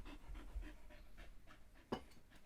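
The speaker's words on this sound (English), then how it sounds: "Can you guys hear that panting?" Excited dog panting close by in rapid, rhythmic breaths, with one sharp louder sound near the end.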